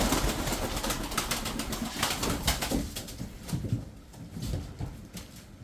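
Tumbler pigeons from Kırşehir flutter and coo close by in a loft, with soft wingbeats and shuffling under a low, continuous cooing.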